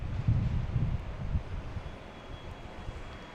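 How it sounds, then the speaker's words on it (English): An American Airlines Boeing 737-800 arriving at Boston Logan, a low, rumbling engine roar heard at a distance and blurred by wind noise, fading over a few seconds. "There's American coming in from Philly, a 737-800."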